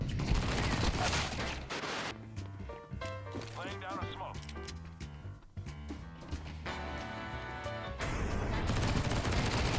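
Gunfire in the video game Counter-Strike 2, rapid bursts of shots in the opening and closing seconds, with game effects and someone talking in between.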